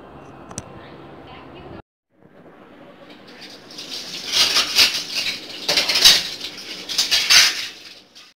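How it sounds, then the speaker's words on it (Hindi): Dishes, plates and kadhai pans are washed at a home kitchen sink, with clinking and scraping of utensils and splashing water rising after a quiet start, growing louder and busier near the end. "और यहाँ मैंने सारे बर्तन धो लिए हैं,"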